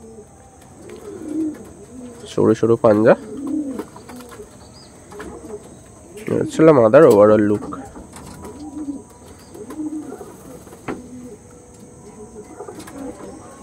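Pigeons of show-quality Andhra and Pulsar stock coo in low, repeated murmurs close by, with a couple of louder harmonic calls, while someone talks over them.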